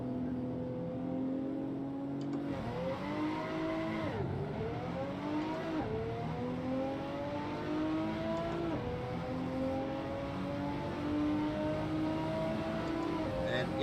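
A mustard-coloured BMW in the racing game Assetto Corsa, on a snowy track, revs through its gears, each climb in pitch broken by a sharp drop at the shift, close and steady under a low background hum.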